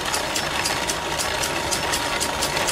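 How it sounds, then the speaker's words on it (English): A small steam engine drives a hand-model corn grinder, giving a steady, rhythmic chuffing and knocking with regular beats, close and continuous, with no talking. "Let's see if we can grind any corn with it."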